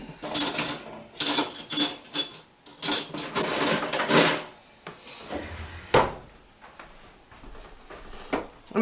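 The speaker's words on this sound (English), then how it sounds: "I'm actually going to use a fork to mix this all together" A fork clinks and scrapes against a bowl in bursts while mixing a cream cheese chicken dip, loud and close, with short pauses between strokes.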